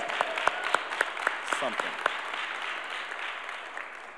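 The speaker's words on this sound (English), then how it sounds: "Y'all can clap a long time for that." Audience applause at a live-streamed event, a dense patter of clapping with a few sharper claps standing out, heard under a speaker's voice over a public-address system.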